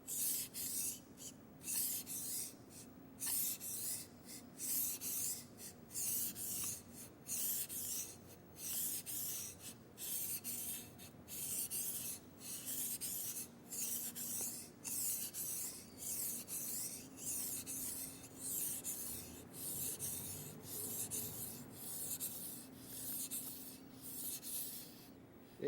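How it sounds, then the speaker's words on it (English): A yanagi knife is sharpened on a whetstone with repeated quiet, rhythmic scraping strokes, each downstroke a soft gritty rub followed by a brief pause, close and alone. "After each downstroke, move the knife forward little by little."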